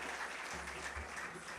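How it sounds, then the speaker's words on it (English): Brief, quiet burst of audience applause at a National Youth Day celebration for Swami Vivekananda's birthday, a soft continuous clapping wash. "Please give a big round of applause for the students and volunteers of Vivekananda Institute of Human"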